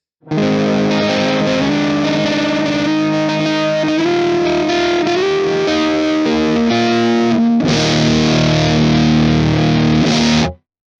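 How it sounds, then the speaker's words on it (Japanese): Thick, fuzzy electric guitar through an Earth Quaker Devices Hoof fuzz pedal, playing a continuous sustained line of notes, heavily saturated with a broad bright edge, ending in a loud fuzzed chord that cuts off. "ロシアンマフっぽい図太いローミットと、結構バリッとレンジの広めな広域を持っているのが特徴です"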